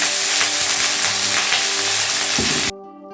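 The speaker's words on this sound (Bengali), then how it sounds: "চলো আলু ভাজাটা বসিয়ে দিই" Potato slices frying in a pan for a home dinner, a loud continuous sizzle with soft stirring scrapes, close up, cutting off abruptly near the end and leaving quiet room tone.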